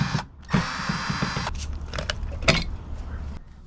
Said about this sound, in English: I'm going to go ahead and take the 4 bolts out on the side.